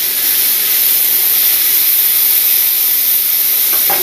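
Steak sizzling in a hot cast iron pan, a steady loud broadband hiss that holds evenly throughout with no pauses.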